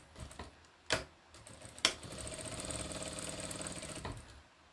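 Sewing machine stitching a quilt seam of half-square triangles, starting with a couple of sharp clunks, then settling into a quiet, even, rapid stitching rhythm up close.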